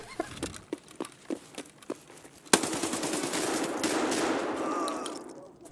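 Automatic gunfire from Escape from Tarkov on the Labs map: a few separate shots, then a sustained loud burst of rapid fire that fills the second half and fades toward the end.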